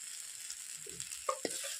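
Chopped green chillies fry in hot oil in a steady, close sizzle, with a couple of brief stirring clicks near the end.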